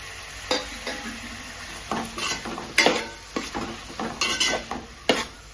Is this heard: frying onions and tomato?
yes